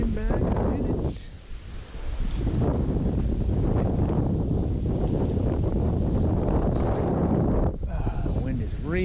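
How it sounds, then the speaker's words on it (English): Strong wind gusts roar across an open river during a trout fishing outing, a loud, steady buffeting rush that dips briefly before building again, with faint voices under it. "The wind is really kicking up big time."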